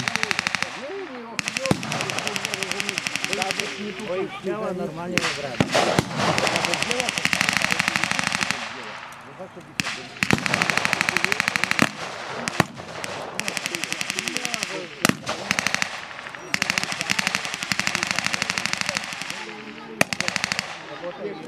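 Bursts of rapid gunfire from a battle reenactment in a forest crack and rattle again and again, loud and close, with brief pauses between volleys and a voice speaking in places.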